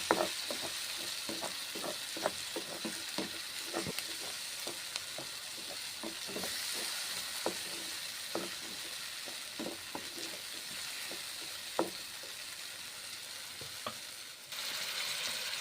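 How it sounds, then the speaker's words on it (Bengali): Spices frying in a pan for a bhetki fish dish, a steady close sizzle broken by repeated sharp clicks and scrapes of a spatula stirring, with no talking. "মশলা দিলাম, নেড়ে চেড়ে ভেজে নিচ্ছি মশলা।"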